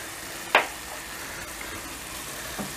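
Minced meat mixture with chili flakes is stirred in a pan over a low, steady sizzle, with a single sharp spoon scrape near the start and a softer one near the end, close and without talk.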